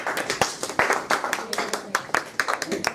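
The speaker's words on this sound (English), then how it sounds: "Can we give them a round of applause?" Applause in a classroom: a short burst of irregular hand claps from a group of students, close and fairly loud, with scattered voices mixed in.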